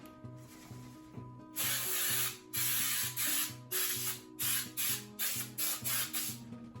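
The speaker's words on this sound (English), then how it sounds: "we're going to start by spraying the pan here" Short bursts of baking spray hiss close up onto a cake pan, one long spritz followed by several quick repeated sprays over a low background hum.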